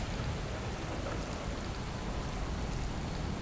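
Steady rain in the video game Boiling Steel, a dense, even hiss of falling water with no break, moderately loud and with no voices.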